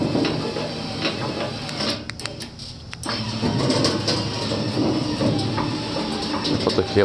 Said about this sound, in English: The motor runs better one way than the other.